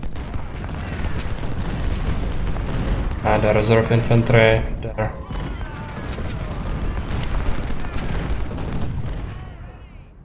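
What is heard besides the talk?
howitzer and cannon fire in a Civil War video game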